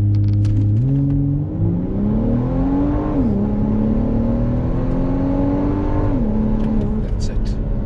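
A Volvo V60 Polestar launches hard from a standstill in sport mode, its engine note rising steadily through gear changes with short dips at each shift, loud and close throughout a 0 to 60 run.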